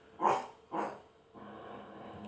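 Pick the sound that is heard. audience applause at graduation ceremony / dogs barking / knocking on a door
dogs barking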